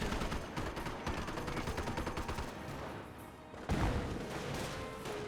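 Pintle-mounted machine gun in Company of Heroes, firing continuous bursts amid other battlefield gunfire, with a sharper burst near the end, moderately loud with no voices.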